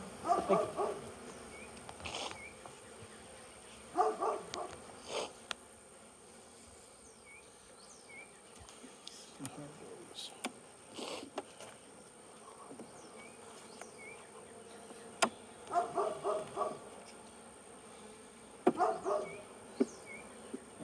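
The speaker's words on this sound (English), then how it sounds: "Plenty of bees." Honey bees buzz around an opened hive super during an inspection, a continuous close drone with louder swells as individual bees pass near, and occasional faint clicks of handling.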